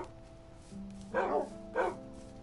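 Dogs in the Minecraft video game give two short, separate barks over a steady low game-music hum, with no talking.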